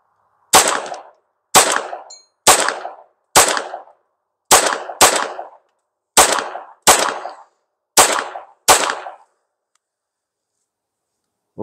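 A Bersa handgun fires Fiocchi standard velocity rounds outdoors: ten sharp, loud gunshots at a steady pace of roughly one per second, each with a short decaying tail, then silence.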